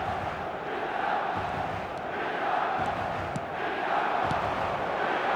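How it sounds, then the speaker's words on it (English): A big stadium crowd in the eFootball 24 match between AC Milan and PSG sends up a steady, dense roar with murmuring and a few faint whistles, filling the full five seconds at an even level. "Crowd appreciates good football all round there."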